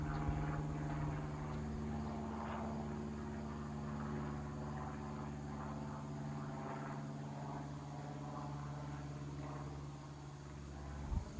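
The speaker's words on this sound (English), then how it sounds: "I've got a plane flying right over" A faint, steady engine drone hums throughout, like an airplane passing overhead at a distance, with no voices.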